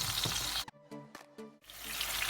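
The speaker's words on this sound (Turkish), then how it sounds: "Şimdi aynı yağda domateslerimizi de kavuracağız." Chopped tomatoes and crushed garlic frying in oil. A loud, close sizzle breaks off for about a second, during which a few short scraping strokes are heard, then the sizzle returns at full strength.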